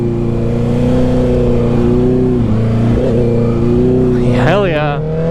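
Honda CBR650R motorcycle with a Black Widow exhaust and no dB killer, its engine droning loud and close at steady high revs, then rising and falling in quick throttle blips near the end, with a voice talking over it.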